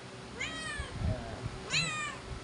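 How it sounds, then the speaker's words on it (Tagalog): A household cat gives two clear, fairly close meows about a second apart, over low background noise and faint room sounds. "pusa namin na maingay."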